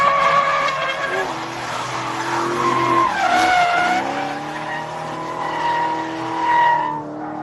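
Drifting car sliding into a backwards entry, its tires squealing continuously with wavering pitch over a droning engine for several seconds, loud and steady before easing off at the end.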